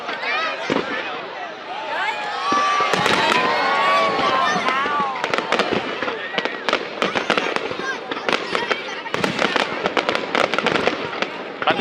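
Fireworks display at the Hung Kings Temple festival in Viet Tri, 2025, with a rapid series of loud sharp bursts and crackles over a continuous crowd murmur, people talking and exclaiming throughout.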